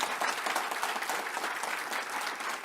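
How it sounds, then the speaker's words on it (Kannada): An audience at a speech about the Bhagavad Gita claps loudly together in agreement, a thick even wash of applause heard throughout. "ಸಹಮತಿ ಇದ್ದರೆ ಒಂದು ಸಾರಿ ಜೋರಾಗಿ ಚಪ್ಪಾಳೆ ಹೊಡೆದು ಸಹಮತಿ ಇದೆ ಅಂತ"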